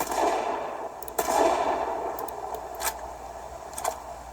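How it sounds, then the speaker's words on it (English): Shotgun blasts from a video game play through HP Omen 17 laptop speakers: several sharp, thin reports with little bass, spaced irregularly over a faint background. "let's try the shotgun"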